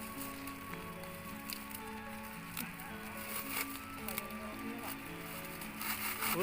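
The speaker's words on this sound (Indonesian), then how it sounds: "Wow, hujan bos." Rain falls steadily outdoors during durian seedling digging, a soft pattering hiss under music and faint voices, growing a little louder toward the end.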